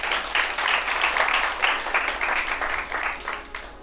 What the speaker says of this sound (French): Acclamez pour la sœur.